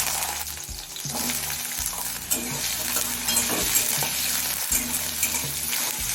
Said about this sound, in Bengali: এবার আলুটা মিডিয়াম থেকে কিছুক্ষণ সময় নিয়ে ভেজে নেব